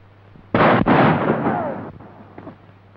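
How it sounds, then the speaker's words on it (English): A single loud, booming gunshot in a 1934 western film, Honor of the Range, a sharp blast followed by a long rumbling decay. "Look out, I'm going to take a shot at him."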